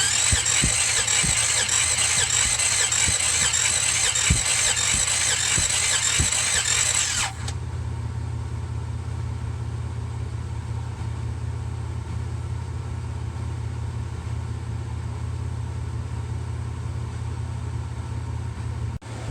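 A 1966 Buick Riviera GS engine cranks over without starting during a compression test, with a rapid rhythmic starter churn for about seven seconds, followed by a steady low hum.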